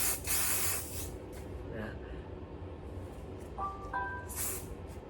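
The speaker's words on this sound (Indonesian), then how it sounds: "Habis itu kuncinya tinggal semprot lagi." A can of hairspray is sprayed onto hair styled into an undercut pompadour with pomade, giving a couple of close, hissing bursts among quieter handling sounds and brief electronic tones.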